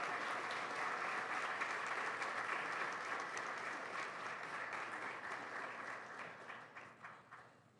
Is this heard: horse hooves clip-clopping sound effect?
no